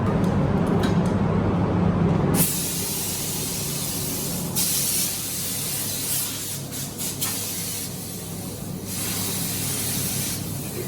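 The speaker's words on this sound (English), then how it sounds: "He reduced it down so it sprays really, really good." A spray gun hisses steadily as it lays down Eastwood Jaded Green 3-to-1 single-stage paint, reduced for spraying, on an old peanut farm truck. The loud, continuous spray stops briefly near the start, then carries on with short pauses.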